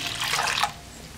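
Water poured into a clay pot holding raw rice flour, a brief close splashing gush that stops abruptly after about half a second, leaving quiet room tone.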